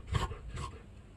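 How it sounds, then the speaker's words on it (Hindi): Dog sleeping underneath something on a dairy farm in Italy, giving two soft, faint whimpering breaths close by, with quiet low background noise. "कुत्ता इसके नीचे सो रहा है।"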